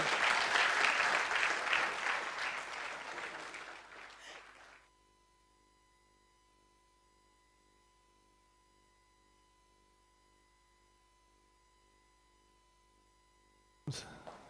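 Clapping from a TEDx audience at Nile University of Nigeria as a guest comes up on stage, strong at first and fading out by about five seconds, followed by near silence with a faint hum until a short burst at the end.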